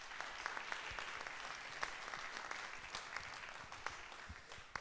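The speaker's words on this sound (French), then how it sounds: "1, 2, 3, sous vos applaudissements, Yann." Audience applause for a performer at a cabaret evening, faint and distant clapping with individual claps standing out here and there over a continuous patter.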